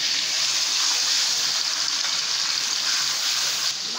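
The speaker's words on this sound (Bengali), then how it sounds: "বাটা মশলাগুলি দিয়ে দিলাম," Ground spice paste hitting hot oil in a kadai sizzles in a loud, steady, close hiss that holds unbroken for the full few seconds, with no voices.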